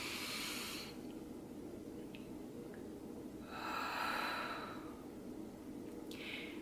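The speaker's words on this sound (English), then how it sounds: "One more time. Breathing in." Deep, slow breaths are drawn in during a calming breathing exercise: three airy inhalations, close and soft, separated by quiet pauses without speech.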